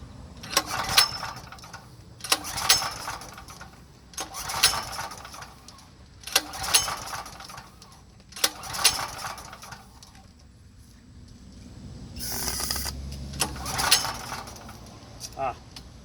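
A Power Mate VX Power Series generator engine, over-choked, sputters through a string of short, evenly spaced pull-start attempts about two seconds apart, each a brief rough burst that dies away, followed by a longer, fuller rumble near the end.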